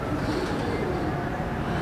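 Pigeons in a loft giving low, soft cooing, blended with a steady murmur of background noise and a voice speaking nearby.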